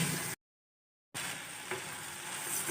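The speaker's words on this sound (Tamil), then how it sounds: "எல்லாம் சேர்ந்து நல்லா வதங்கி வரட்டும்" Onion, garlic and manathakkali berries sauté in a pan with a steady close sizzle. A short silent break comes near the start, then the frying resumes alone.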